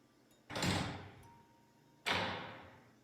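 A door opens in the Momo Mother Bird video game, giving two separate swelling whooshing sweeps, each sudden at the start and then slowly fading, about one and a half seconds apart.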